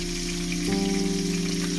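Butter or fat melts in a hot pan before salmon goes in, a soft, steady sizzle with a faint hum underneath, heard alone.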